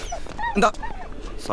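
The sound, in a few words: dog whimpering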